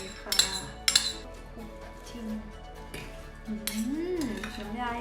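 Utensils clink and scrape against a bowl while a Thai konjac noodle and mackerel salad is tossed, a few sharp metallic knocks early, then softer stirring under faint background sound.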